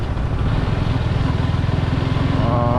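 A Royal Enfield Bullet 350 motorcycle runs close by, its engine giving a steady, loud, rhythmic low thump without a break throughout.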